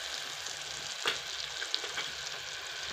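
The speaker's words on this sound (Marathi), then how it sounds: "आता हे सगळं मिश्रण तेलामध्ये एकदम एकजीव करून घेऊया." Spice mixture of red chilli powder, turmeric and curry leaves frying in oil for a dry cashew vegetable dish, a steady close sizzle with a few scraping stirs near the middle, no voices.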